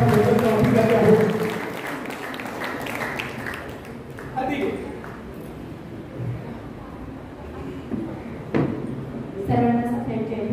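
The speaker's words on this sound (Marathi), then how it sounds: "एक टाळ्या वाजवा" An audience at a talk on the constitution breaks into applause: a crowd of hands clapping at a moderate distance, rising after a spoken passage and fading back under talk.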